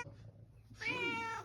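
A hungry cat waiting for wet food lets out one loud, drawn-out meow close by, following a brief quiet moment.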